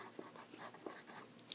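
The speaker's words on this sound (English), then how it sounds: "Now I'm going to write the answer" Pencil or pen writing an answer by hand on paper, faint soft scratchy strokes and small taps in quick irregular bursts, close and quiet with no talk.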